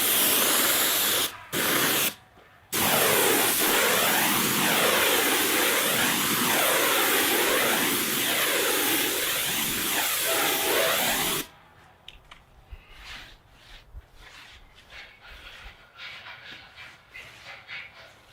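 A sprayer hisses loudly and continuously while coating a wooden fence with stain, stopping briefly twice near the start and then cutting out, leaving faint scattered sounds.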